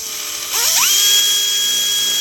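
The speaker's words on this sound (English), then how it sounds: "I use the drill with an 8mm drill." A power drill with an 8mm bit widens a hole in a 3D-printed part, its whine rising sharply in pitch as it spins up, then holding a steady high tone.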